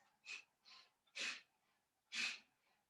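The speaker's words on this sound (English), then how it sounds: "So Kapalabhati breath, a little fiery, building some heat" Sharp, forceful nasal exhales of Kapalabhati breathing in a yoga flow, four quick puffs over about three seconds, close and breathy, with the second and fourth strokes louder than the others.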